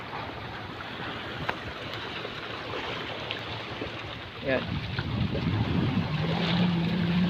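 Rough, surging sea at the Manila Bay breakwater during a typhoon with a very high tide: a steady broadband wash of wind and churning waves, building louder near the end, with someone talking briefly over it.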